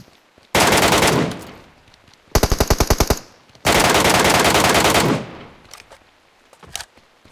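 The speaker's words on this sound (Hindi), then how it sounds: "फायर देना चालू किया था।" Automatic gunfire from the mobile shooter BGMI (PUBG) played on a OnePlus 9R: two long sustained loud bursts of spray fire separated by a fast, evenly spaced string of individual shots, then a couple of faint distant pops.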